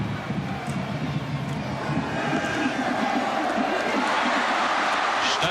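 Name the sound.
football stadium crowd, subdued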